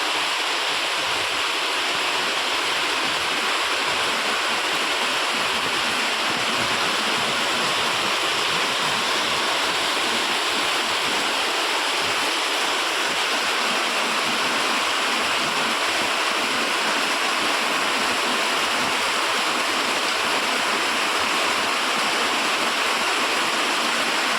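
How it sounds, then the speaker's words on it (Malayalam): Heavy midday rain pours down in a dense, unbroken roar of falling water that holds steady and loud for the whole stretch, with no voices. "നല്ല മഴ പെയ്യുന്നുണ്ട്."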